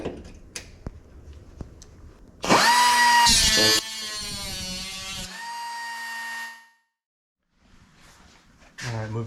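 Power drill cutting out spot welds on the steel body of a 1965 Dodge Coronet 500. It whines loudly for a few seconds, then runs on more steadily and stops. Faint clicks come before the drilling and a short burst after.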